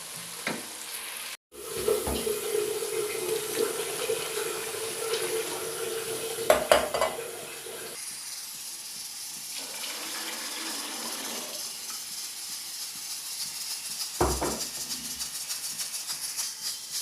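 Water is poured into a pot of softened tomatoes while cooking kabuli pulao, a running pour over a light sizzle, with occasional clinks of a utensil against the pot.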